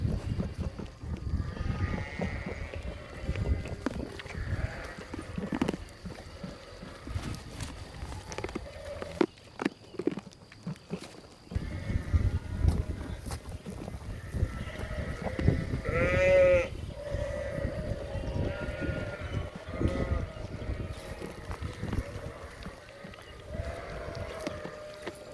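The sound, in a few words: sheep, ewe lambs bleating on a farm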